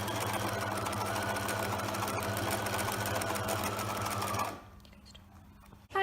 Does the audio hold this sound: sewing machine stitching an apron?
yes